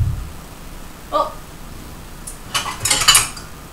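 Pots, pans and a colander clatter and clink in a home kitchen as the colander is pulled out, a couple of near metallic knocks followed by a brief burst of jangling, with no talking.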